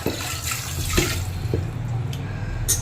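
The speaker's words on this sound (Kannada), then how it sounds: "ಚಿಕನ್ಗೆ ನೀರು ಹಾಕೊಂತೀನಿ." Water poured from a vessel onto chicken in a cooking pot in a home kitchen, a steady close splashing gush that runs for about three seconds.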